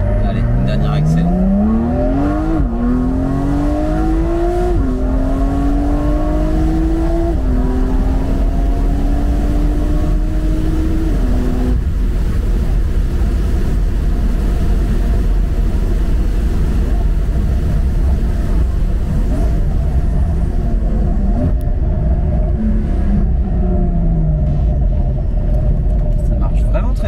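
Porsche 992 Carrera 4 with a stage 2 tune revving hard, its engine note climbing in repeated rising sweeps through the gears, loud and close, then settling into a steady rumble, with voices talking over parts of it.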